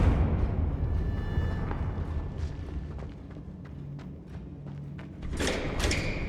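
Confringo blasting spells explode in the video game Hogwarts Legacy: muffled thuds and rumbling under a noisy game scene, then a sharper burst of blasts near the end.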